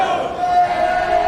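Spectators at a state championship bout for EJ Sparks roar in a sustained, dense crowd swell with a droning chant-like tone running through it.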